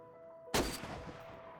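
A single sniper rifle shot fired at zombies in DayZ: a sharp, sudden crack after a moment of quiet, then a rumbling echo that fades away over about a second.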